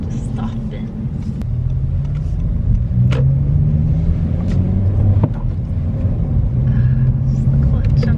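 Inside a 2022 Honda Civic Si sedan on the move, a steady low engine and road rumble drones throughout, with occasional rises in engine note and scattered bumps and clicks under faint cabin noise.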